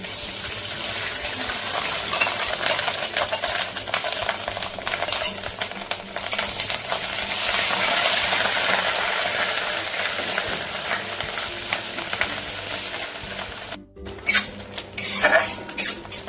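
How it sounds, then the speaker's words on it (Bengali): Catla fish roe frying in a pan, a continuous sizzle with frequent metal spatula scrapes and clinks against the pan, close and loud, ending with a brief gap and a few sharper knocks. "মাছের ডিমটা আমি ভেজে নিচ্ছি"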